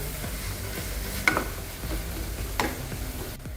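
Spices including coriander-cumin powder and garam masala sautéing in a pot for dal khichadi, a steady low sizzle with two sharp scraping ticks of a spoon against the pot, close and alone.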